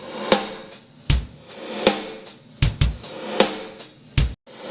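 Brainworx BX_Aura reverse reverb applied to a snare: repeated snare hits, each preceded by a short swelling reverse wash, recur in a steady rhythm over a drum groove, loud and up front.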